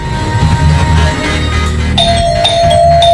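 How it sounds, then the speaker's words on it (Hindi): A doorbell at a flat chimes three times in quick succession over a steady low background hum. "इतनी घंटी क्यों बजा रहे हो"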